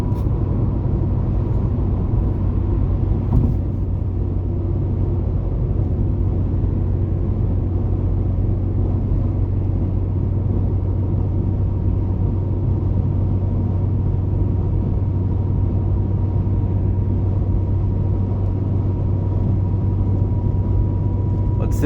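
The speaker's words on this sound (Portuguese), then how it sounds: "Isso aí é mistura de carro turbo, pé lá embaixo, metendo o motor." A turbocharged Ford Focus project car fitted with twin throttle bodies runs with a steady, loud low engine drone and rumble, held continuously without sharp revs, with someone talking over it.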